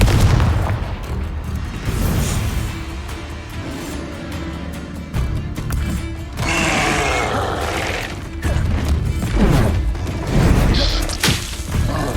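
Confringo blasting-spell explosions in Hogwarts Legacy land as loud booms and crashing impacts with whooshing magic, several blasts spread across a busy duel, and a voice shouts spell names between them.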